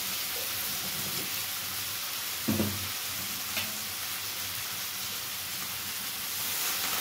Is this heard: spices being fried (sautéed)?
yes